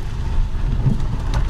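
A Chery Exeed TXL's suspension knocks and thuds over bumps, heard as dull low impacts under a constant loud road rumble inside the car.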